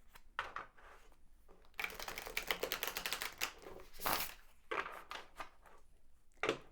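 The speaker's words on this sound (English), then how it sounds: "So one more shuffle." Quick riffling and snapping of a tarot card deck being shuffled close by, in dense bursts with short pauses between them.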